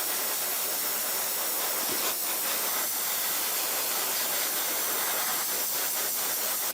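Continuous close hiss of an airbrush blowing air to dry a fresh coat of paint on a Bandai 1/12 scale Boba Fett model, steady throughout with a brief cutoff at the end.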